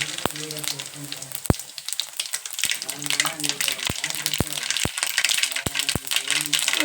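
Cumin and mustard seeds dropped into hot oil in a pan, crackling and popping with sharp, scattered snaps over a continuous sizzle while a voice is faintly heard beneath.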